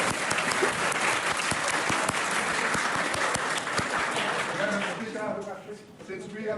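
Sustained, dense applause fills a parliament chamber after a motion is agreed, many hands clapping together close and loud, thinning near the end as voices and a hint of singing come through.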